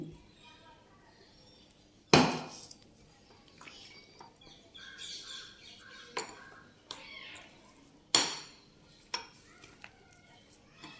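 A spoon stirs oil into a moong dal chutney in a bowl, with several sharp metallic clinks against the bowl spread across the clip amid softer scraping and faint background chirps.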